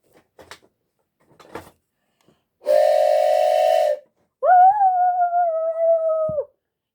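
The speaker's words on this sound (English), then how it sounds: "Soon he blew his whistle" A few faint clicks, then a long loud steam tank engine whistle, followed by a second whistle with a wavering, slightly bending pitch.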